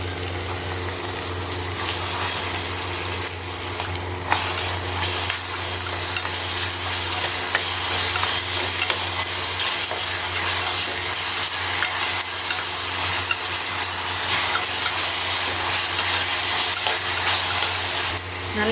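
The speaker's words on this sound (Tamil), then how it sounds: "வெங்காயம் நல்லா வதங்கட்டும்." Onions sautéing with green chillies and ginger-garlic paste in a pan for tomato rice, a steady, close, dense sizzle with occasional stirring running unbroken throughout.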